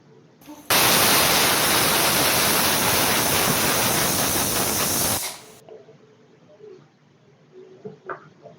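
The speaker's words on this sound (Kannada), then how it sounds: "ನೋಡಿ ನಾವು ಇದನ್ನು 2 ವಿಷಲ್ ಕೂಗಿಸ್ಕೊಳ್ಳೋಣ, ಚೆನ್ನಾಗಿ ಬೆಂದಿರುತ್ತೆ" Pressure cooker on the stove letting out a long, loud steamy whistle while tomato bath cooks, a harsh hiss lasting several seconds before cutting off to quiet kitchen background.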